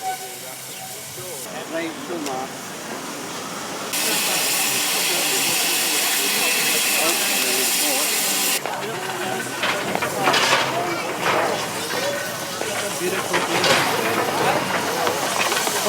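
Steam locomotive The Great Marquess stands at the Mallaig terminus and releases a loud, steady hiss of steam for several seconds, with crowd chatter and platform bustle before and after.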